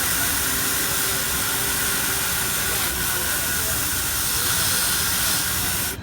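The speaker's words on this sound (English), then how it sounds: "I will use the green brush to give myself the final little polish." A JOOLTOOL rotary polisher works a silver bezel with a brush and felt wheel, giving a continuous loud hissing whir with a faint steady hum beneath.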